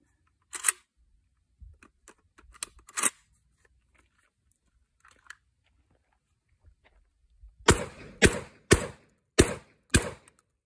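Five sharp, loud shotgun blasts in quick succession from a Kalashnikov KS12 firing Estate Super Competition 7.5 shot, preceded by scattered quieter clicks and handling noises.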